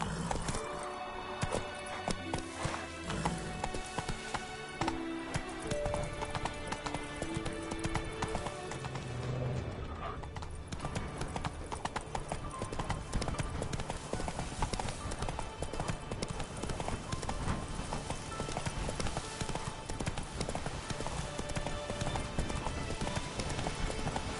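Horse hooves gallop in a PS4 video game with a fast, steady clip-clop that runs throughout, broken by an occasional whinny over a busy, continuous layer of game sound.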